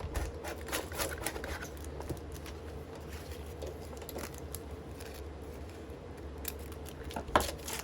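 Scissors cut a 12-inch strip of stiff paper in a quiet room, close by, with a series of small snipping clicks and faint rustling and a sharper snap near the end.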